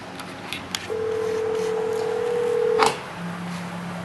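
A Polycom IP7000 conference phone dials a cell phone, giving a short series of DTMF key tones and then a long steady tone ending in a brief burst, before a low tone follows near the end.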